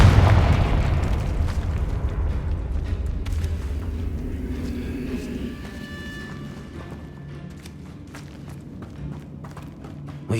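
Confringo blasting spell from Hogwarts Legacy, a loud booming burst at the start that decays slowly into a rumbling tail and scattered crackles, with a soft pop at the very end.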